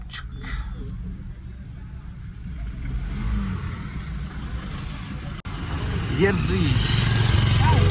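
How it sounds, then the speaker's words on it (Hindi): A car pulls away in a stalled traffic jam on the road to Solang Valley, its engine rising from a low idle rumble to a steady, louder drone, with traffic noise and a faint horn-like tone around it. "चल पड़ी मेरी गाड़ी।"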